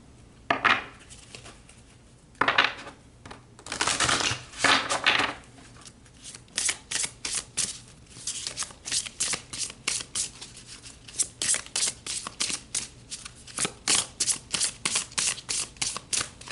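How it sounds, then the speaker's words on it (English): Tarot cards being shuffled by hand, a close series of crisp riffling bursts, a few long sweeps early and then many short rhythmic flicks in quick succession, with no talking. "let's pull some more cards"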